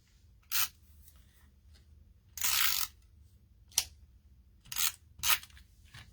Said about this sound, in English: Once you do the cutting on this card, it comes together very quickly.